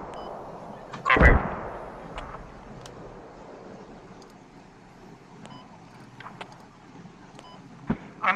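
Firing toward a map grid in the video game Squad: one loud, close launch blast early on, then faint distant thuds and clicks, with a sharp shot near the end.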